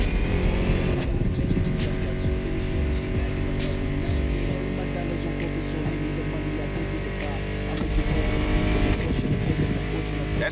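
A Mustang muscle car roars through a race in The Crew Motorfest, its engine droning loud and steady with rising revs, blended with background music.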